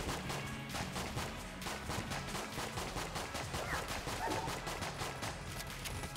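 Rapid, continuous magical gunfire from a heavily modded wand in Enter the Gungeon, a dense rhythmic stream of sharp shots packed with crashing effects at steady, loud volume throughout.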